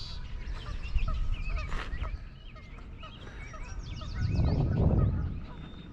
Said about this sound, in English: There's a wood duck there.